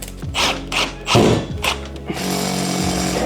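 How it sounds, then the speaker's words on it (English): A power drill whirs in several short bursts while drilling holes into a garage wall, then runs in one longer steady grind at the end, loud and close. "you can kind of see what I'm aiming for here"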